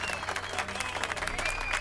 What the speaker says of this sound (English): Oh, and everyone's slow clapped.